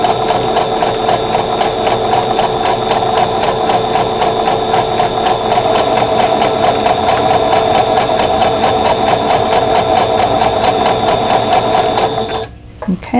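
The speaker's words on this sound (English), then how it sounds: "make sure your seam is going straight under your presser foot right in the middle." A sewing machine runs steadily and loudly close by, stitching a seam through quilt batting with a fast, even mechanical chatter, then stops abruptly near the end.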